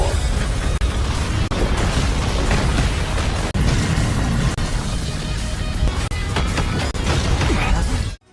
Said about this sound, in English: the energy explosion from the clash sent them both flying backward